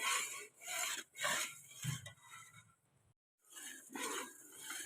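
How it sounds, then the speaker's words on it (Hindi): A spoon scrapes and stirs chana dal as it roasts dry in a pan, making soft, rhythmic rasping strokes close by with a brief pause partway through. "मुसलसल इसमें चम्मच चलाते रहें।"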